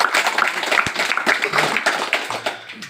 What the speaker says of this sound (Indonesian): tepuk tangan untuk Peter